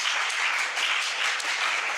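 Audience at a Hindi devotional talk in Vrindavan bursts into steady, loud clapping that fills the whole two seconds, dense and even with no voices over it.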